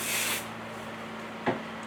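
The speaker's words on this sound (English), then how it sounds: "I'm going to spray the fuzzy side with 505, just lightly" A short, light hiss of 505 spray adhesive misted onto fabric, lasting about half a second, then quiet room tone with a faint brief rub, under a low steady hum.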